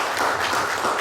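Audience applause at a Point Richmond–Santa Fe District 2 candidate forum, a continuous wash of clapping from a seated crowd that holds steady from start to finish.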